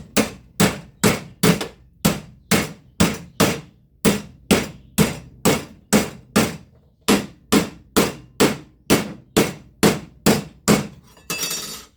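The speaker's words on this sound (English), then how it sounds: "So I'm going to hammer form this over the existing shape" A hammer repeatedly strikes sheet steel being formed over an existing shape for rust repair on a GMC door, about twenty sharp ringing blows in a steady, even rhythm, loud and close, with no talking.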